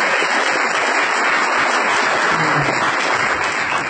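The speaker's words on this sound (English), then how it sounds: "Let's give him a big round of applause and thank him for coming" Dense, steady applause fills a convention hall as a crowd claps continuously for a speaker, loud and unbroken with no voices on top.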